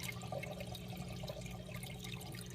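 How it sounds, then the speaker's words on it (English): Water trickles steadily down inside an eShopps Nano Cube refugium on a Red Sea Max 130D aquarium, a soft continuous splashing burble heard close and alone. "the only thing you hear now is a little water trickling down this area here"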